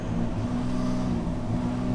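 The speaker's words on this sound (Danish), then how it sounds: "Skal I lige høre den? Altså, det er en dieselhakker." A diesel car engine idles steadily, heard from inside the car, with a low, even rumble and no voices.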